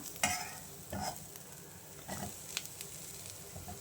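Grated coconut and jaggery sautéing in ghee in a pan as a filling for steamed ragi dumplings: quiet scraping stir strokes and light sizzling at close range, a few sharper clicks, no speech.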